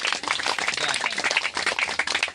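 Clapping from an audience at a Christian prayer gathering, fairly loud and continuous with dense overlapping claps for a couple of seconds, with faint voices mixed in.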